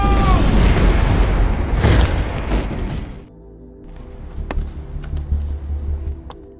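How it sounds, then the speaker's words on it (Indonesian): Bomb explosion in an action film, a loud booming blast with rumbling debris that fades into quieter settling noise and scattered crackles. "sebelum bom itu meledak"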